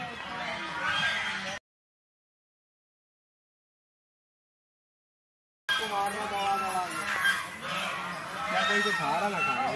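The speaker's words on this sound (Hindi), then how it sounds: "अब हम जाएंगे पक्षी लोक के अंदर" Geese and other fowl honking and clucking inside a bird enclosure at Kanpur Zoo, bursts of calls before and after a silent gap, with people talking nearby.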